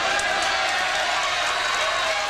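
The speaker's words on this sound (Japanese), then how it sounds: "ブーイングです、ブーイングです。" A crowd at a women's pro wrestling show in Tokyo's Korakuen Hall fills the hall with a sustained, loud wash of hall noise from the audience, steady with no breaks.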